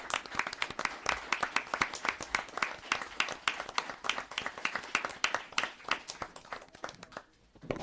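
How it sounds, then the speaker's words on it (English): At a town board meeting, a modest audience gives a round of clapping, individual hand claps distinct and steady, moderately near, fading out in the last second. "A round of applause"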